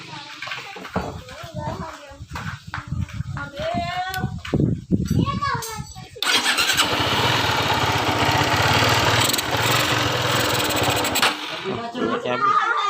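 Motorcycle engine started and then running at a steady, loud, close rumble for the last several seconds, after a stretch of people talking.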